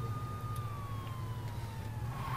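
Police car siren from the video game Saints Row 2, a steady wailing tone that slowly slides downward, moderately faint behind a low engine hum, with no talk.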